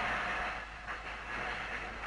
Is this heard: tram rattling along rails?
yes